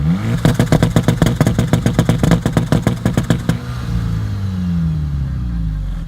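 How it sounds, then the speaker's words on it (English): A VW MK6 GTI with muffler deletes revs in rapid pulsing bursts, loud and close, then settles into a steady drone with turbo whoosh and whine. "So the car right now sounds like this."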